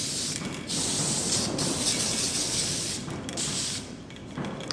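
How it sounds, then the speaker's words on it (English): Hairspray from a nearly empty can hisses onto curled hair in a few close, short bursts separated by brief gaps, with soft handling noise between them. "So I'm just going to spray a little bit of that in."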